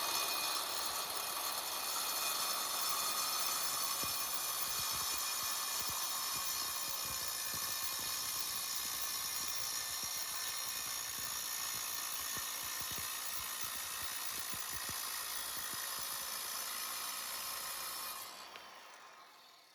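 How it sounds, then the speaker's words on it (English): A circular saw fitted with a 7-inch diamond-coated blade grinds steadily through concrete for most of the clip, a loud continuous abrasive whine that cuts off near the end. "The diamond blades really do a good job cutting it."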